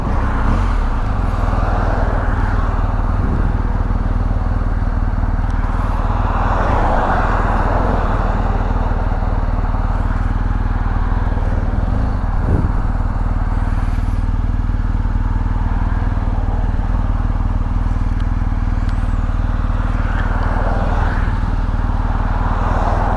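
A 2023 BMW GS1250A motorcycle riding in traffic gives a steady low engine drone with a few brief clatters and passing vehicle sounds, constant and close, with no talk.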